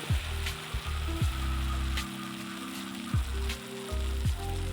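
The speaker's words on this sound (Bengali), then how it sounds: "একদম দেখো লুচির মতন ঠিক হচ্ছে, মনে হচ্ছে যেন লুচি ভাজা হচ্ছে" Palm-fruit malpua batter fries in hot oil with a steady close sizzle, while low hums and periodic tonal swells run underneath.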